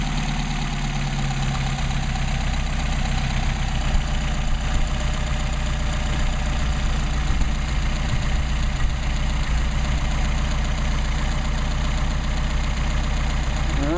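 A Mercedes 190SL engine on Solex 44PHH carburetors idles steadily at factory idle speed, a close, even, low rumble that holds for the whole stretch with no talk.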